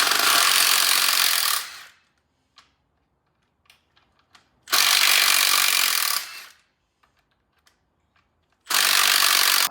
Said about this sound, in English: Loosen the oil pan bolts.